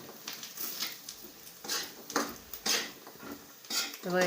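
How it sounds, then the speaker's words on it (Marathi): Masala being fried and stirred in a pan for a soybean curry, with repeated scraping strokes of a spoon against metal and a light background sizzle, close up and moderately quiet. "मसाला अगोदर नीट हे करून तळून घ्यायचा"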